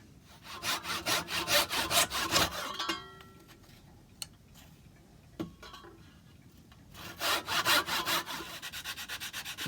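A hand saw cuts wood for a large cuckoo clock repair in rhythmic back-and-forth strokes, close and clear. A quiet pause with a couple of knocks follows, then the sawing resumes, with no one speaking.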